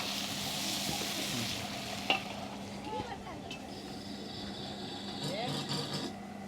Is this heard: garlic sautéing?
yes